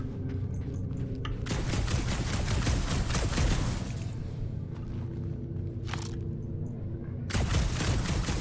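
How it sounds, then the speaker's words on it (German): Charged blaster shots fired in the Guardians of the Galaxy video game: dense, loud bursts of rapid gunfire-like blasts, a long volley followed by a pause and another short burst near the end, with no talk. "Ein aufgeladener Schuss verursacht sowohl Taumel als auch körperlichen Schaden."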